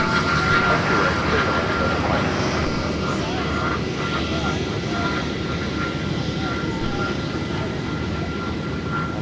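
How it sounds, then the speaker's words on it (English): A United Airbus A319 airliner taxis close by at Minneapolis–St. Paul airport in winter, its steady engine roar filling the scene continuously, with people talking over it. "you could get an excellent view of this United 319 taxi right by us"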